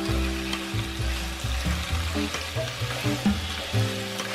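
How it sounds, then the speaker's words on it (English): Celery stir-fried in a pan with smoked tofu and pork belly, loud close sizzling with stirring and spatula scrapes, set against a steady musical backing. "Stir fry for a short while."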